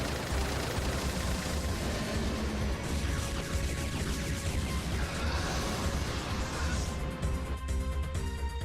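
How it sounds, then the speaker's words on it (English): Machine guns and a main cannon fire like crazy in the video game Final Fantasy VIII, a dense, unbroken barrage of loud shots and blasts that keeps going for the whole stretch. "Are the machine guns and main cannon ready?"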